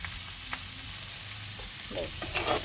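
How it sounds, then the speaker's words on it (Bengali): Beans frying in a pan with onion, green chili and turmeric: a close, steady sizzle, with a few scraping stirs rising toward the end and no speech. "এদিকে বিনস ভাজাটা আমাদের পেঁয়াজ কাঁচা লঙ্কা হলুদ দিয়ে দিলাম"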